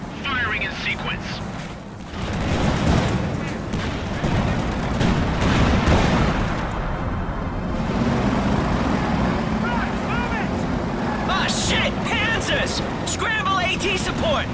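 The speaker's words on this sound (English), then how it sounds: "Time on target artillery. Firing in sequence." Artillery barrage in Company of Heroes 2, a dense, continuous rumble of booms and cracks with low rolling blasts, overlaid by game voices and radio chatter throughout.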